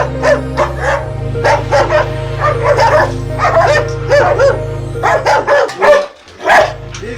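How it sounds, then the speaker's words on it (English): Several farm dogs, including shepherds and Rottweilers, bark and yip repeatedly in irregular bursts, loud and close, over a steady low hum, with a whimper near the end. "We have very many dogs here"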